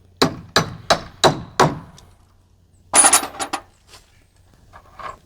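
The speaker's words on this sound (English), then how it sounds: "I'm using an old screwdriver and a hammer. I'm going to put that right there in the center and tap it all the way through." A hammer strikes an old screwdriver to tap a bolt through a solar panel fitting. Five evenly spaced, sharp metallic taps ring out close by, followed by a rattling burst of clatter and a few fainter knocks, with no talking.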